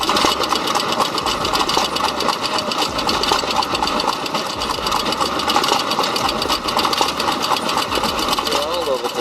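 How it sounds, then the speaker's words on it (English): A Roseberry 2 horsepower engine drives a homemade firewood processing machine, running steadily with a dense mechanical clatter and whine that stays loud and continuous throughout. "its Roseberry 2 horsepower engine roars to life with raw power"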